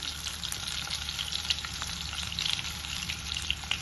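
Egg masala sizzling and frying in a pan over a high flame, a steady close crackle with occasional stirring scrapes.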